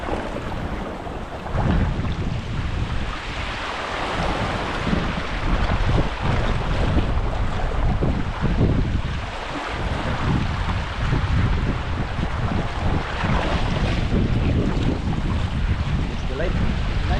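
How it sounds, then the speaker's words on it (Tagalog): Strong wind roars and buffets the microphone steadily throughout, with a rushing, broadband wash like open water and gusts pressing close. "Hangin talaga idol oh. Ang lakas ay."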